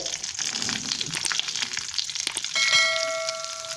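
Onions go into hot oil already frying dried chillies and curry leaves for garlic kuzhambu, making a steady, close sizzle with stirring scrapes, then a sustained ringing tone near the end.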